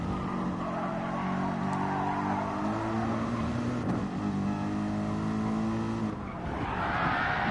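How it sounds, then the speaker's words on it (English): A race car in GT Sport at Interlagos brakes with its tires on the grass, a strained engine whine with falling, skidding tones over several seconds, ending in a brief rise of tire and engine noise. "Braking with the tires on the grass is certainly not recommended."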